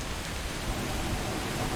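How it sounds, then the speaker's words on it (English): Steady rain hisses evenly in an Atlas game world at sea, a dense, unbroken wash that sounds close, with no voices over it. "And it's raining"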